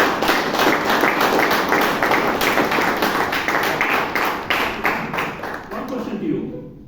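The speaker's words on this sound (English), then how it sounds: "Let's give him a great round of applause." A round of applause at a Toastmasters club meeting in Bangalore, a small group clapping in a brisk, slightly uneven rhythm nearby, gradually thinning out and stopping near the end.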